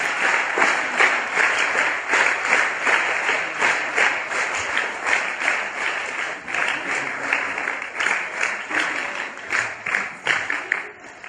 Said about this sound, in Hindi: जोरदार तालियों से हम यहाँ पर सभी का स्वागत कर रहे हैं।